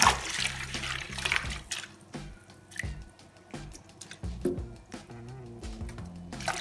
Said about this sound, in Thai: แต่เราก็ต้องมาล้างทำการล้างให้ไปเลยค่ะ ให้สะอาด